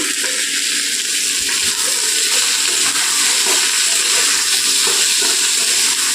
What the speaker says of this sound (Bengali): তো পেঁয়াজ পাঁচফোড়ন আর কাঁচা লঙ্কা ফোড়নে দিয়েছি